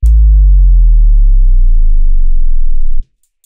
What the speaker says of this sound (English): let's listen to this sine wave controlled by a straightforward linear automation line